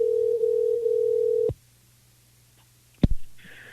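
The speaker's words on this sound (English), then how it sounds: "Ringing. It's ringing." A telephone tone sounds on a call, one steady pitched tone lasting about a second and a half and then cut off, followed by near silence and a brief clunk and clatter.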